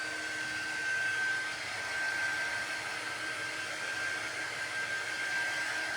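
A hair dryer blows over sparkly craft glue to speed its drying, a steady airy whir with a thin high whine running evenly throughout, fairly quiet and with no talking.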